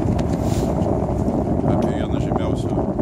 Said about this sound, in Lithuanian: Vėjas pučia, bet tai netrukdo susukti reportažėlį